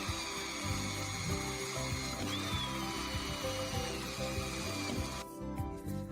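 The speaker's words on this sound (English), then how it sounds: "Drill through both." A power drill cuts holes through an outer van body panel and the reinforcing plate behind it on a 2020-on VW Caddy Cargo. It whines steadily and close up with a continuous grinding tone, then stops near the end.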